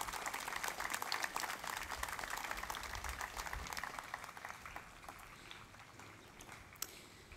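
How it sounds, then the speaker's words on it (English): Steady applause from a crowd thanking the organizers of an outdoor Memorial Day parade, a dense crackle of clapping that holds for several seconds and then thins out a little near the end. "Let's give them a round of applause."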